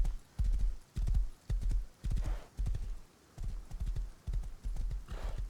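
Horse hooves in the video game Rust clop in a steady, evenly spaced walking rhythm, loud and close, with a faint breathy snort near the end.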